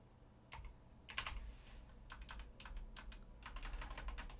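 Arrow keys on a computer keyboard are pressed in a quick, uneven run of close, crisp clicks over a low steady hum, with no talking.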